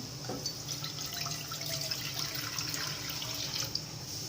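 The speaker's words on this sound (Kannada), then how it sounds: "ಈ ಥರ ಒಂದು ಕಡಾಯನ್ನು ಇಟ್ಟು ನೀರು ಹಾಕ್ತೀನಿ" Water pours into a kadai pan, giving a soft, continuous splashing trickle with a few brighter drips over about four seconds. The sound is close and fairly quiet, with no talking.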